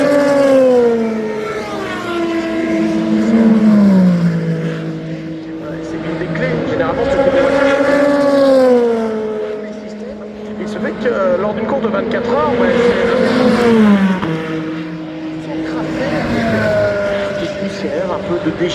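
A race car at a circuit, its engine note rising and falling in long sweeping pitch bends as it accelerates and shifts, loud and sustained for most of the span with brief dips.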